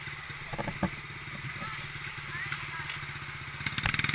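Dirt bike engine idling at the Finger Lakes ATV Park in Columbia, Missouri, a steady mid-pitched putter with a light clatter, growing rougher and more pulsing near the end.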